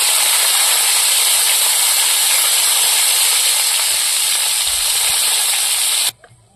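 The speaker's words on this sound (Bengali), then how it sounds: "লঙ্কাটা লাল করে ভেজে নিয়েছি।" Dried red chilies sizzle loudly and steadily in hot oil close up, a constant hiss that cuts off abruptly near the end.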